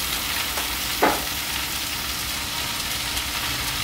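Glass noodles stir-frying in a pan, a constant close hiss of oil with one sharp scrape of a spatula partway through.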